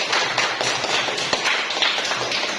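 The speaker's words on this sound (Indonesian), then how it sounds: "Beri tepuk tangan untuk Nadia dulu." A class applauds a student's correct answer, giving a short burst of light, scattered clapping that sounds fairly quiet and close, with no talking over it.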